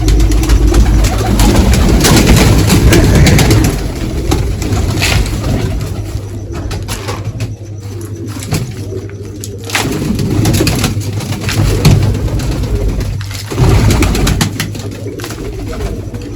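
Pigeons coo in a pigeon loft among the keeper's young birds, the calls buried in a loud, continuous broadband rumble and hiss that carries on throughout.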